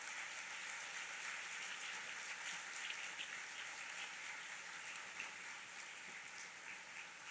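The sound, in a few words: audience applause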